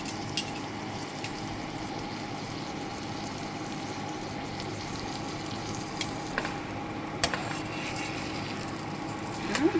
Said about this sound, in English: Alright, so I'm cooking. That's my ribeye steak.